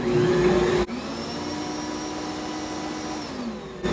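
An electric kitchen mixer whirs steadily and loudly, its pitch shifting briefly as it starts, then holding a constant motor drone before a change near the end.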